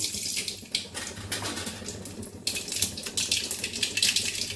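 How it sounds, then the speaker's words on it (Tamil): Mustard seeds crackle and sizzle in hot oil in a pan for a kuzhi paniyaram breakfast. The hiss is steady and close, with sharp popping bursts throughout and no voices. "ஆயில் காஞ்சிருச்சு கடுகு போட்டுக்குவோம்"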